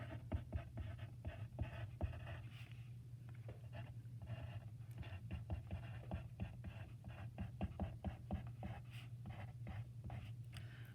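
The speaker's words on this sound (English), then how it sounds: "So I'm going to just write the Barlow home." A pen writes a name onto a paper planting plan up close, with quick repeated scratchy strokes in an irregular rhythm and no talking.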